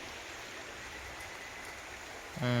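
A waterfall on a big hill pours with a steady, soft, hissing rush, heard from a distance and fairly faint, and a short tonal sound cuts in at the very end.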